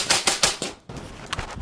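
Five rapid .223 rounds from a suppressed POF Minuteman rifle with a Surge X suppressor, Fiocchi 55-grain ammunition, overgassed: a quick string of muffled sharp cracks, then a pause and a few fainter metallic clicks.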